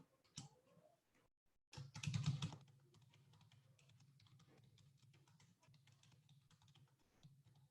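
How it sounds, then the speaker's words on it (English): A computer keyboard being typed on at close range, with a loud burst of clatter near the start and then a long run of quieter, steady key taps over a low background hum. "I'll just type that up for you, Vivian, so you can see."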